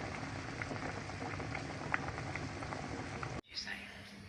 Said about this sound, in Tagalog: Papakuluan ko muna siya. Ito na siya. Kumukulo na.